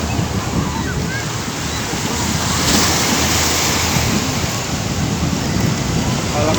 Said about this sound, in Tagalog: Malakas ng alon, no?